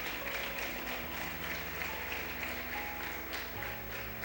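A congregation at a Spanish-language church service gives sustained applause, a faint, even wash of clapping over a low steady hum throughout.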